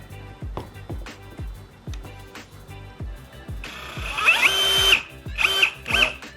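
A power drill boring holes through a plastic car bumper, with clicks and handling sounds giving way to loud, close bursts of the drill motor whining as it cuts through.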